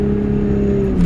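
Toyota Supra engine revving hard during a street launch, a loud close steady drone with its pitch climbing at the end, no voices.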